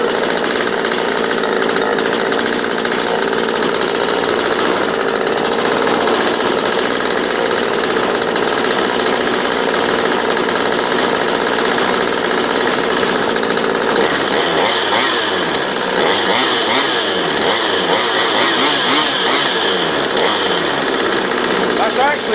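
Stihl MS 192 TC chainsaw engine idling steadily as it warms up during a carburetor tune-up, a continuous loud close buzz that shifts to a rougher, pulsing tone partway through.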